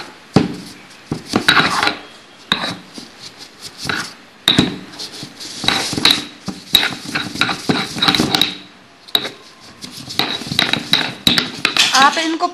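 Rangoon creeper leaves are pounded and ground in a mortar (kharal), giving repeated clinking, knocking and scraping strokes of the pestle at close range, with short pauses between bursts.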